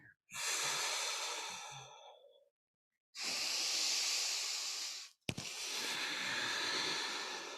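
Three long, breathy exhalations during seated yoga twists, each a steady broadband rush of air lasting about two seconds, separated by short silences, close and fairly loud with no talking.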